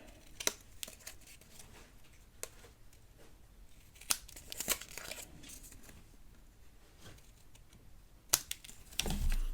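Several sharp snips from scissors cutting paper, spaced irregularly with quiet rustling between, close by and fairly soft.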